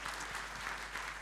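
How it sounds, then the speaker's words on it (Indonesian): A church congregation at a Christmas service claps together in sustained, even applause, heard alone with no voices over it. "tepuk tangan bagi Allah kita"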